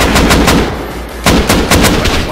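Rapid bursts of in-game gunfire from the survival shooter Rust, loud and close, firing in several quick volleys separated by a short pause, with no talking over them.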